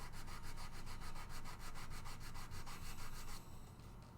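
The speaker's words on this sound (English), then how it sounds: "So now I'm just sanding down all those fills" Sandpaper rubs back and forth over wood filler on a guitar body in quick, even strokes, close and steady with no talking, then eases off at the end.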